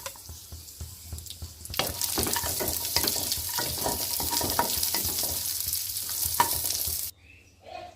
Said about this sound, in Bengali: কড়াইতে ঘি দিয়ে দিয়েছি, হালকা করে বাদাম কটা ভেজে নেব।